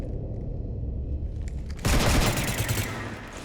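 Sustained automatic gunfire in the Mass Effect 3 video game, shots hammering a ship, bursting in loud and dense after a quieter opening stretch of low hum and faint clatter, then tapering slightly toward the end.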